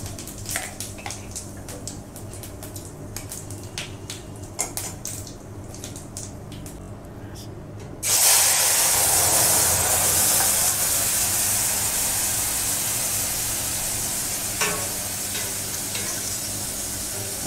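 Bay leaf and cumin seeds hit hot oil and burst into a loud, steady sizzle partway through, after a stretch of light clicking and handling sounds; the frying stays strong and continuous to the end.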